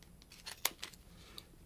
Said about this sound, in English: I like to use a little pair of snips and just start slowly at first and get the scissors in